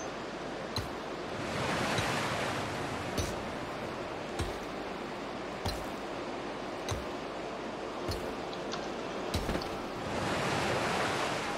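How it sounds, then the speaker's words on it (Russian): Water waves wash steadily in the video game Landmark, a continuous surf-like rush that swells in places, with faint regular clicks over it and no talking. "Ой, да тут вода."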